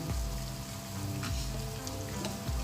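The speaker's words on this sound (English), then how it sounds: "Now we're gonna go ahead and just add that mackerel." Canned mackerel lands in a sautéing pan and sizzles steadily, a soft, dense frying hiss with a low background hum and a few faint knocks.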